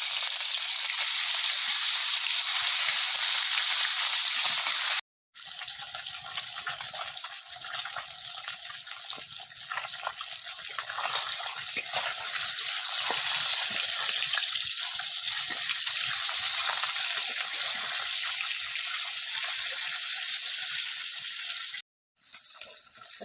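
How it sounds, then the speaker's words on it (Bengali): Rui (rohu) fish pieces rubbed with salt and turmeric frying in hot oil give a loud, steady, hissing sizzle that runs almost unbroken, dropping out only briefly twice. "এবার তেলটা আমার গরম হয়ে গেছে, এবার মাছগুলো ভেজে নেব"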